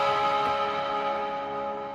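An electric guitar plays a slide-style part from a song using the fingers instead of a slide, heard as a single sustained, ringing note that fades slightly over two seconds, alone and close.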